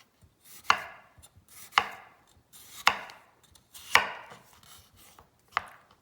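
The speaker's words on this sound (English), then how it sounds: "What I'm going to do is chop them in 1/4-inch cubes." A knife chops yellow Yukon Gold potatoes into quarter-inch cubes on a cutting board, giving five or six sharp, evenly spaced thuds with quiet pauses between them, close and clear with no talk.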